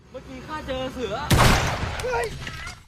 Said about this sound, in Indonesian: Paijo mencoba menembak Chow dari kejauhan, tapi naasnya tembakan itu malah mengenai Bunkert.